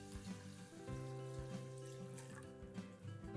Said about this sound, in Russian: Заливаем холодной водой.